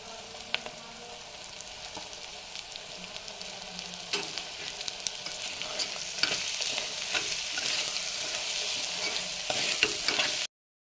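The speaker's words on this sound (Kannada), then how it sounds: "ಇವಾಗ ಇದೆಲ್ಲ ಚೆನ್ನಾಗಿ ಫ್ರೈ ಆಗೈತೆ ನೋಡ್ರಿ ಎಣ್ಣೆ ಒಳಗೆ." Egg rice masala frying in oil, a steady sizzle that swells louder as it goes, broken by clicks and scrapes of stirring, close and unaccompanied by talk.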